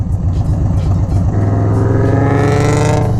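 Heard from a Harley-Davidson Softail Street Bob motorcycle in traffic, a nearby car accelerates and revs hard, its engine note climbing steadily in pitch over a rumbling low end.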